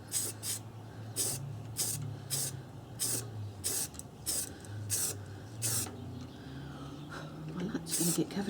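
A spray paint can sprays in a string of short, sharp hissing bursts, a dozen or so spaced irregularly, with a low voice talking underneath.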